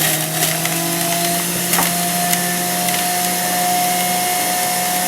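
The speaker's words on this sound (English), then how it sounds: "we're just going to start to feed the carrots into the machine, one handful at a time" An electric juicer, a Breville Juice Fountain Elite or Omega Mega Mouth BMJ330, runs with a steady motor whine and hum while baby carrots feed into its blades. Faint crunchy grinding ticks show up now and then over the constant drone.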